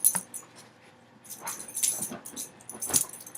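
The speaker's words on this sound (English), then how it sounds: "This dog is so noisy." A dog whimpers and whines in several bursts, with wheezy, high-pitched cries and small yips rising and falling, fairly close and with no talk over it.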